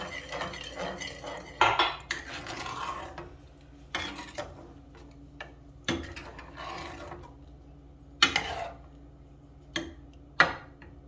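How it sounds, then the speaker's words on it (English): Tomato sauce going into a pot for homemade cheeseburger macaroni, with clattering pots, utensil scrapes and stirring knocks at intervals, close and fairly loud, no talk. "we're going to add 8 ounces of tomato sauce"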